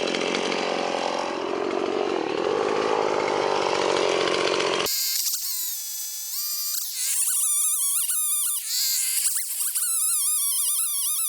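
A Stihl SM180 chainsaw warms up, first as a loud, dense, steady roar and then as a raspy, high-pitched whine that rises and dips with the throttle, running close and alone throughout.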